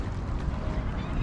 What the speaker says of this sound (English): A whole heap of bird out there